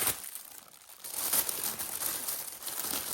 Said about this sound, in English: oh, the crinkle, I'm sorry, it's right here